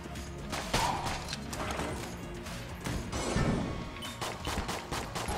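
Gunfire from the video game Enter the Gungeon: dense, loud bursts of blasting and crashing shots in rapid, irregular volleys with little pause, filling the whole stretch.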